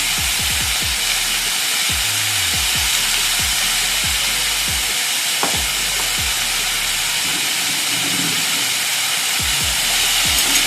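Onion and garlic paste roasting in a pan for a mutton curry, heard as a loud, continuous broad hiss with a low rhythmic thumping underneath and no voices.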